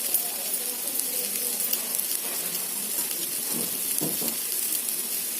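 Fenugreek and mustard seeds frying in hot oil for a radish fry, a steady close hiss of sizzling with faint popping and stirring, continuous throughout.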